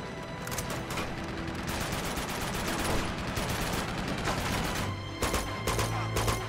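Mounted machine gun fire in Uncharted 2 hammers away in rapid, steady bursts that fill the whole stretch, loud and close, with a few heavier impacts near the end.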